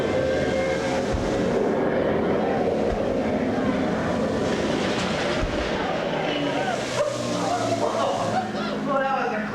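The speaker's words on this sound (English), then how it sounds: "Plane's coming in at 10 o'clock." Airplane flyover effect in an EPCOT nighttime show at Walt Disney World: a loud, sustained roar fills the whole stretch, swelling slightly toward the end, blended with crowd noise and amplified voices.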